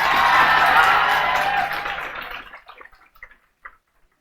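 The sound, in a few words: audience applauding loudly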